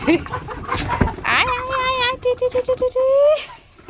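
Several chickens cluck and squawk close by at feeding time, one rising into a run of rapid, repeated calls, mixed with rustling and a bit of background chatter.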